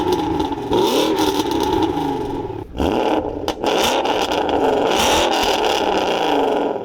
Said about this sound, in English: fitted a full stainless steel custom valved exhaust, which sounds like this.